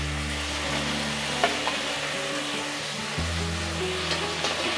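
Chopped tomato sizzles in a hot pan while it is stirred, partway through cooking a raw green banana curry. A steady, dense frying hiss runs throughout, with occasional soft scraping from the stirring and no talking.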